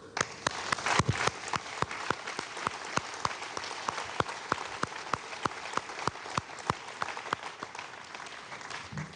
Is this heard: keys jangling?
no